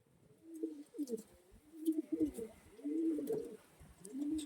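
Pigeons coo in low, throaty rolling phrases, several repeated calls overlapping in a steady rhythm, fairly quiet and close with faint background rustle and no talking.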